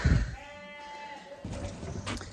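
A sheep on a farm bleats loudly at close range, a single drawn-out wavering call lasting about a second, with faint farmyard shuffling around it.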